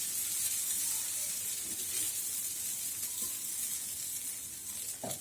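Toor dal dosa batter sizzles on a hot griddle, a continuous close hiss that holds steady and alone before a brief knock near the end.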